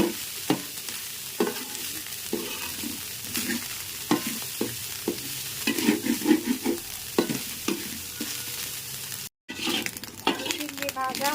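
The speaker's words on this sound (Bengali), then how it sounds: "এটা আমি কিন্তু এটা একদম ভাজা ভাজা করে নেব।" Tiny sea shrimp frying crisp in a pan, a continuous close sizzle broken by repeated spatula scrapes and stirring knocks, with a short gap near the end.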